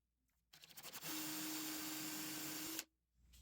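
Power drill boring holes during the building of a MicroJig 360 and Kreg miter fence sled: a short whirring burst that revs up, holds a steady high whine for about two seconds, then stops.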